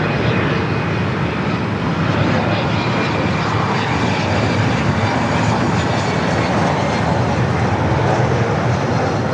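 A Cessna Citation Latitude business jet from Van Nuys arrives at LAX with a loud, continuous jet engine roar and a faint high whine, steady across the whole stretch and free of speech.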